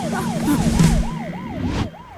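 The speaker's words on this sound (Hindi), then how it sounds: "ये तो एम्बुलेंस है।" An ambulance siren wails in steady, repeating rise-and-fall sweeps, fairly close and loud, over a low rumble of street traffic.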